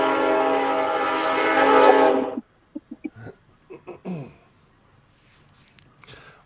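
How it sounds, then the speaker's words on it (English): A train passes close by as a loud, steady broadband rumble for about two seconds, then cuts off sharply, leaving scattered clicks and short knocks with faint talk afterwards. "There comes another train."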